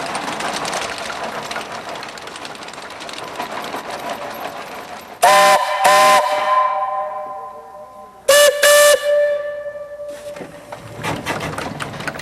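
A steam-powered Lombard log hauler, an early 1900s tracked steam log hauler, sounds its steam whistle in two loud, harmonic blasts separated by a pause, each trailing off, over a continuous chugging, clattering engine.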